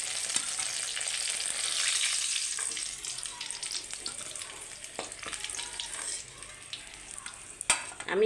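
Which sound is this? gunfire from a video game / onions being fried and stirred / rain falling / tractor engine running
onions being fried and stirred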